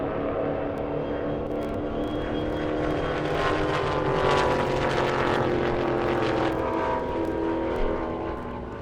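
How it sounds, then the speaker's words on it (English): A Dodge Hellcat's supercharger whines as it runs at a distant airstrip speed event, a steady high tone riding over a continuous, roaring engine drone that swells slightly mid-run and holds throughout without any voices. "You can hear the Hellcat supercharger whine from all the way over here"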